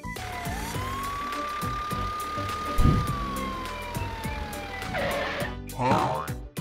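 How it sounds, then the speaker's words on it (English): A toy police car siren wails in a long, steady rising-and-falling tone over a busy mix of toy-like music and clatter, with a brief louder burst near the end. "It's a police car."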